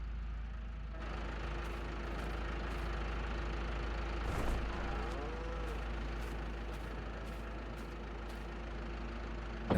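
A tractor engine in a farming simulation game hums at a steady, low drone throughout, with a brief swell in the middle and a few faint clicks over the top.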